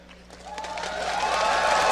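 A live esports crowd at the 2012 League of Legends World Championship cheers for World Elite, a broad roar that swells steadily louder over two seconds with no one speaking over it.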